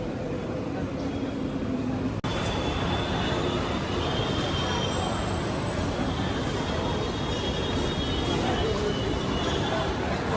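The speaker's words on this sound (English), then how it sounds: "I have arrived at Marol Naka metro station, and now I am going to take the Aqua line." A Mumbai Metro Aqua Line train hums and rumbles steadily at Marol Naka station, with a sharp click early on, thin electric whines and a murmur of voices in the background.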